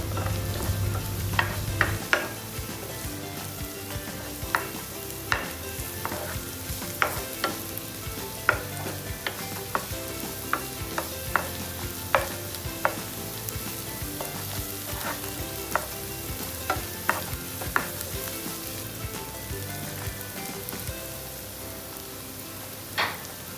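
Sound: stirring and frying curry leaves in a pan

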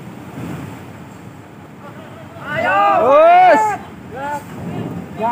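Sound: sea waves tossing a boat

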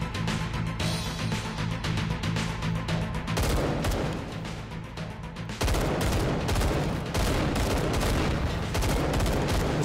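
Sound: gunfire from a gun without sights, from a video game

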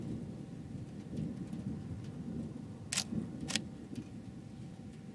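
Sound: thunderstorm with rain

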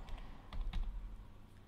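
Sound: typing a URL on a computer keyboard

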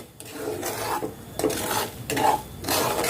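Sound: stirring semolina and gram flour roasting in a pan

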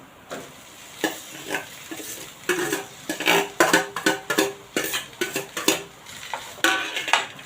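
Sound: grated potato stirred in a frying pan

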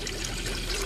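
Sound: sugar water being poured into a glass jar

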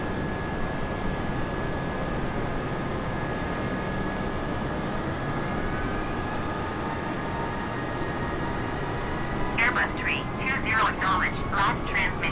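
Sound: airliner engine noise in flight simulator video game

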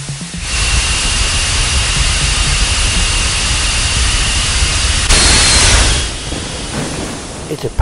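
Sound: rotating detonation engine running

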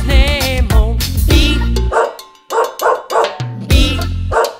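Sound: dog barking

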